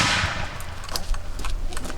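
Revolutionary War reenactors fire a musket volley during outdoor training and drilling: a loud broadband blast opens the clip, then fades into scattered crackling reports and echoes.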